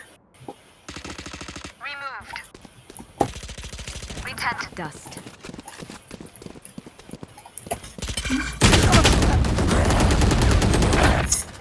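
Rapid bursts of gunfire from the video game Valorant ring out in dense, repeated volleys, closing with a loud sustained stretch of fire that overwhelms everything else.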